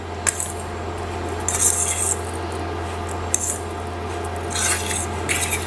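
Bread kebab mixture with spices being mixed in a bowl, soft scraping and rubbing with occasional clinks of utensil on the bowl over a low steady hum, no voices.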